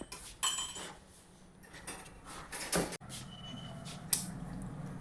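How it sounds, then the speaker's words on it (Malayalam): Appam batter being stirred in a metal pot, with a spoon scraping and clinking against the sides in irregular strokes, close and fairly quiet, with a few sharper metallic knocks. "അപ്പം നമുക്ക് മിക്സ് ചെയ്യാം."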